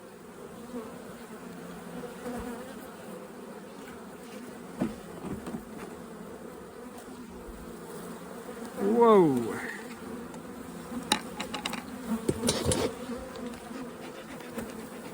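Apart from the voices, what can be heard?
bees buzzing at hive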